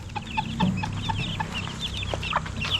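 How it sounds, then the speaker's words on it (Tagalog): Young chickens in a coop give soft, overlapping clucks and chirps in a steady busy chorus, close and moderately loud, with no talk. "ito yung update natin sa mga manukan natin, sa mga sisiw natin."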